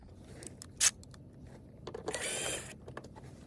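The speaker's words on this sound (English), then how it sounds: "take my T20 bit, and I'm going to remove this piece right here" A T20 bit backs a small fastener out of a plastic trim piece by a seat belt anchor in a GMC Yukon, with a sharp click followed by a short whirring grind of the driver, close and moderately loud.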